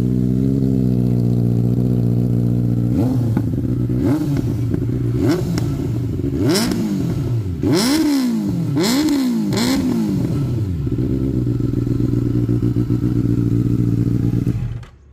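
A Benelli 600i inline-four motorcycle's exhaust idles with a deep, throbbing note, then is revved hard several times in quick rising and falling sweeps before settling back to idle, loud and close with no talking.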